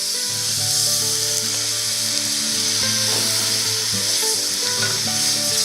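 Sizzling of arborio-style rice toasting in a pan for mushroom risotto as white wine is poured in, a steady close frying hiss with soft stirring scrapes throughout.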